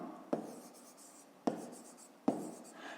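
Pen strokes on paper while working a fifth-grade math exercise: three sharp taps, each followed by a quiet scratch of writing, close and faint in an otherwise quiet room.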